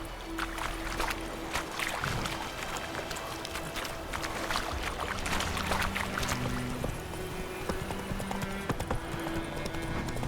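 A horse gallops in The Witcher 3: Wild Hunt with fast, steady hoof clops over a game music bed and ambient noise.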